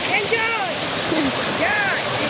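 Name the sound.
waterfall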